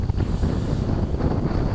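Strong, gusty wind roars and buffets the microphone during a one-hour GPS speed-sailing attempt on Lake George, a steady, close rumble with a faint water wash beneath and no voices.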